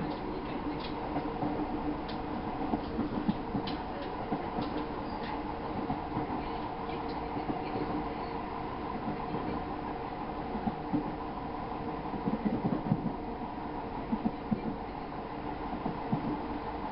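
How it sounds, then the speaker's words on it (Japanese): A train runs on rails after leaving Komoto Station, a continuous rumble of wheels with faint recurring clicks over the track joints, heard steadily from inside without voices. "列車は小本駅を出発。"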